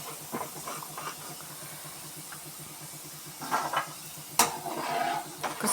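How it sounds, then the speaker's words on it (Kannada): Tapioca slices fry in hot oil, giving a steady close sizzle and hiss. Occasional metallic stirring clanks and a sharp scrape from the pan cut through it. "ಈಗ ಮರಗೆಣಸು ಫ್ರೈ ಮಾಡುವ."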